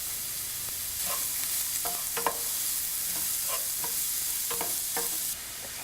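Sliced onions with salt stirred in hot coconut oil while cooking an egg curry: a steady sizzling fry hiss with intermittent scraping stirs of a spoon against the pan, close up and alone.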